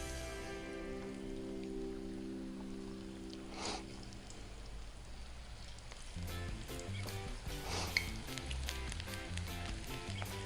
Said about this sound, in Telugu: ఇక్కడ వేడి అయిపోయింది నూనె. మనం చక్కగా దీంట్లో మనం ఆయిల్లో వేసుకుందాం.